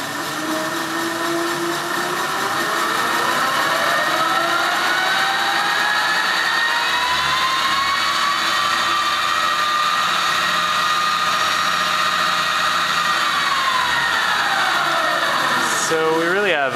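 An electric motor in a Taylor Dunn B2-48 utility vehicle with an Alltrax controller whines up in pitch under throttle, holds a steady high hum for several seconds, then winds back down, loud and close.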